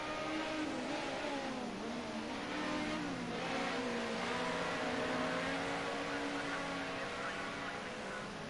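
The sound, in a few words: race car engine revving in a racing video game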